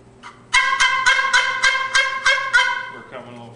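A handmade turkey call plays a series of about eight evenly spaced, raspy yelping notes, close and fairly loud, trailing off into a softer sound at the end.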